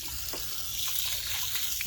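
A garden hose spraying water over the engine of a 2000 Subaru Outback to rinse off spilled coolant, a steady close hiss and splatter with no talk.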